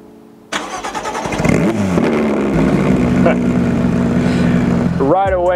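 A 2019 Porsche GT3 RS engine starts after a moment of quiet, revs sharply, then settles into a loud, steady, high-pitched idle, with a brief whine near the end.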